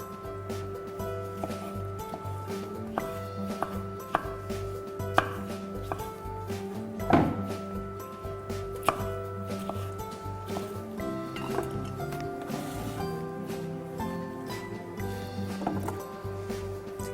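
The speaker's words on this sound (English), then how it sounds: "we're just going to chop these up, just roughly chopped" A knife chops coconut flesh roughly on a board, a steady run of sharp, fairly close knocks and taps with a few louder strikes, heard alone without talking.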